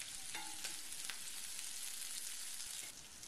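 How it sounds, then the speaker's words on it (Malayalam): Onions, green chilies and curry leaves sauté in a pan with a steady, faint sizzle and crackle, broken by a few soft spoon scrapes and taps. "ഒന്നോ രണ്ടോ പച്ചമുളകും കുറച്ച് കറിവേപ്പിലയും കൂടി ഇട്ടിട്ട് നല്ലപോലെ ഒന്ന് വഴറ്റി കൊടുക്കുക"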